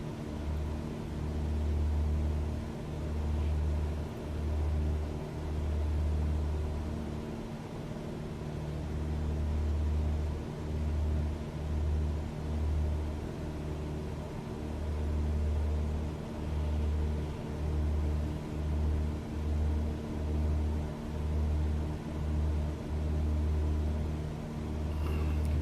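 A Cessna 172 cruising over wild land and small towns, its piston engine giving a steady, loud cabin drone with a low pulsing beat that swells and eases, no talking.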